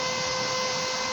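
Cooling blower of a Kawasaki welding machine running after power returns, a steady broadband whir with a faint tonal hum, constant and close for the whole stretch with no voices.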